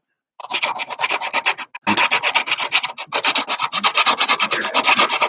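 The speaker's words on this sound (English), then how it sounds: "ripping up the sandpaper" Hand sanding with sandpaper on a homemade wooden sliding door handle, smoothing a small groove: close, loud, rhythmic rasping back-and-forth strokes with one short pause partway through.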